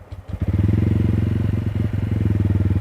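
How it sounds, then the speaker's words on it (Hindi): A TVS Ronin motorcycle engine catches after a brief starter crank and settles into a steady, loud thumping idle, the exhaust pulsing evenly and close by. "मैं आपको इसका एग्जॉस्ट साउंड सुनाना चाहता हूँ।"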